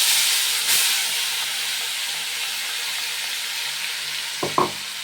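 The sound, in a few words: onions frying in a pan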